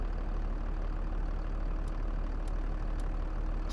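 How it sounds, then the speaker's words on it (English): A farm vehicle's engine idles in Farming Simulator 22, a steady low rumbling hum that holds at an even level throughout, with a few faint ticks above it. "Switch the engine off."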